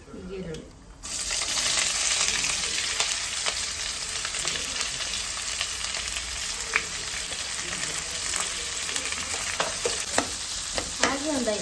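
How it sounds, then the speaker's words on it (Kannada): Sliced onions and green chillies fry in a pan with a steady sizzle, while a utensil stirs and scrapes intermittently with sharp clinks against the metal, heard close with no talking. "ಹಾಗೆ ಒಂದು 5 ನಿಮಿಷ ಫ್ರೈ ಮಾಡ್ಕೊಳ್ಳಿ."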